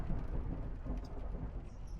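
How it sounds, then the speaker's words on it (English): Thunder rumbles outside during a storm, a steady low roar with rain-like hiss that stays moderately loud and continuous with no talking. "it keeps thundering and lightning outside"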